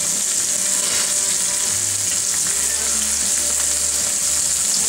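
Bacon and steak sizzle steadily in a pan for a steak and bacon sandwich, a loud, continuous frying crackle with no talk over it.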